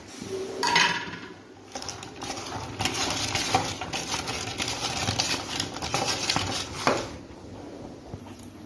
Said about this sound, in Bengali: কড়াই বসিয়ে দিয়েছি